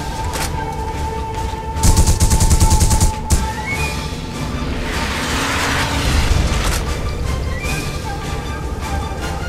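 Gunfire in The Punisher video game against an armored, jetpack-wearing enemy: continuous shooting and booming impacts over a loud mechanical drone, with a dense rapid burst in the middle and a second swell later.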